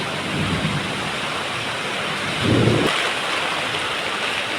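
Heavy steady rain falls during a storm outside a leaky home, a loud unbroken wash of noise with a brief low rumble partway through.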